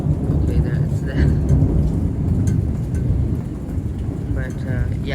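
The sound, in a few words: rain and thunder during a July rainstorm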